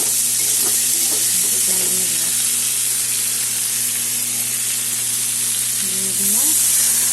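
Sliced tomato and green chillies frying in a pan, a loud steady sizzle and hiss throughout with occasional stirring scrapes, the sizzle swelling briefly near the end.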